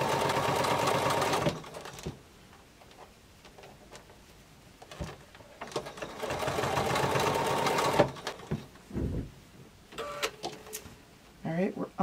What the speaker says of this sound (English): So it's very easy to sew that cording.